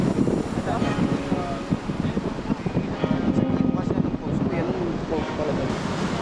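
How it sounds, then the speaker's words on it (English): Strong coastal wind on a boardwalk in Siargao, Philippines buffets the microphone with a constant loud roar throughout, while a voice speaks briefly underneath. "It is crazy windy right now."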